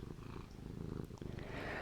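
A cat purrs close to the microphone in a quiet ASMR setting, a soft, rhythmic, rumbling purr heard alone without talk.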